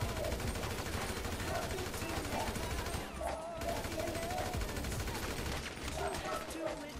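Rapid bursts of GTA V video game gunfire crackle continuously, volleys overlapping like a firefight, with a faint voice occasionally underneath.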